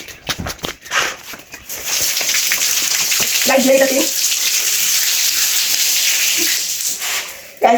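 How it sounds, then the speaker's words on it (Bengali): Leaves are washed in water, a steady close rush and splash of running water following a few bumps and handling knocks, with a brief voice-like murmur partway through. "দেখো 4টা পাতা নিয়ে নিলাম, এখন আমি পাতাগুলো ধুয়ে খাবো"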